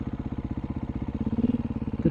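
A two-stroke dirt bike on an off-road trail in the China Wall OHV area of Colorado, heard as a steady, rapid, pulsing engine putter at moderate distance, with no voices.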